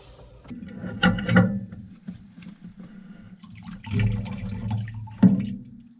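Water dumps out of a valve on a scuba BC as it is rinsed, two gushing, gurgling bursts separated by a quieter trickle, close and fairly loud.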